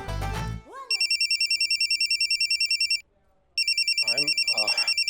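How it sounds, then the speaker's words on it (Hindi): A phone's electronic ringtone trills in rapid repeating pulses, loud and close, breaking off briefly before starting again, and it interrupts a conversation. Voices are heard just before the ringing begins and again near its end. "बीच में फोन बजा"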